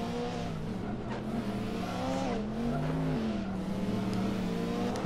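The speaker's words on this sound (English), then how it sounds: "There's the noisy V8." A V8 race car engine snarls from a distance, its pitch rising and falling as it shifts and sweeps past, a continuous buzzing drone without talk.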